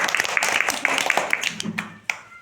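Quick group clapping rings out in a classroom map-reading activity, dense overlapping claps that thin toward the end, with a brief murmur of voices underneath.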